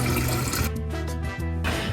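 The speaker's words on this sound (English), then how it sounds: "I'm going to empty or discard the water" Filtered water is poured out of a water filter container into a sink, a loud splashing gush that breaks briefly into gurgling bursts midway, then resumes, close by with no speech.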